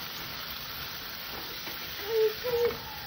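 Cashew and poppy seed paste fries in a pan with ginger-garlic paste, a steady soft sizzle that swells briefly near the end as the paste is stirred, close and fairly quiet.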